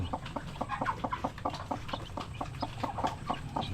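Newly hatched native chicken chicks cheep close by, a busy overlapping stream of short high peeps with hen clucking mixed in.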